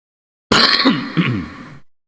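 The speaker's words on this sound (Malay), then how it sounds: "Maaf, saya batuk." A single rough cough or throat-clearing burst during a religious lecture, close and fairly loud, lasting just over a second with no talking around it.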